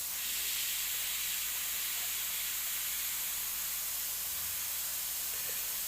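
An airbrush sprays paint onto tiki-themed artwork in a steady, unbroken airy hiss that runs evenly from start to end, close and moderately quiet, with no talking.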